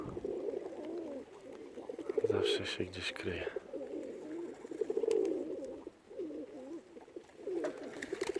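Flying pigeons of the Murzyn and Budapest breeds coo repeatedly in soft, throaty phrases, close by, while a person talks quietly in between.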